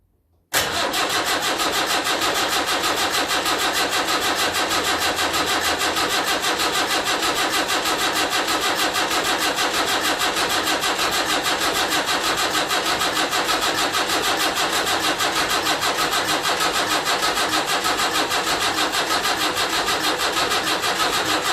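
A Land Rover Series 3 with a 2 1/4 diesel engine fires up for its first start after a short silence, then settles into a loud, even, clattering diesel idle that runs steadily to the end.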